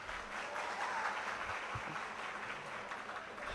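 Audience at a student gathering applauding together, a dense, even wash of clapping from many hands that holds steady throughout, moderately close and with no speech.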